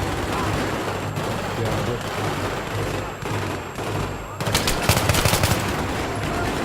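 Automatic gunfire from Battlefield 3 crackles through a busy combat mix, then a loud rapid burst sprays in about midway and keeps rattling for a couple of seconds. A player's voice talks over the action.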